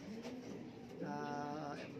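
Imported pigeons cooing nearby in a loft, a soft throaty warble that swells in the second half, with faint background noise.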